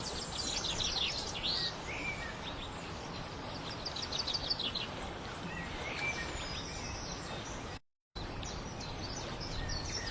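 Many birds chirp and tweet continuously over a dense, rustling background, with quick bursts of high calls and a brief dropout near the end.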